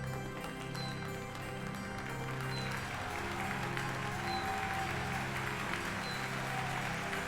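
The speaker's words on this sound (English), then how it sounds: "I like the added applause." Steady crowd applause in the video game Shin Megami Tensei III: Nocturne HD, a dense, even clatter of clapping that keeps going throughout, with faint tones and music underneath.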